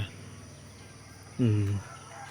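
A single short cluck from a chicken kept at a school, fairly close, rising briefly above a quiet background hum.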